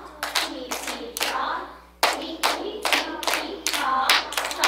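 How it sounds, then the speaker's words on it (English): Students in a music class clap out a rhythm in sharp, close bursts of hand claps, grouped in uneven patterns with brief pauses between phrases. "clapping the rhythm"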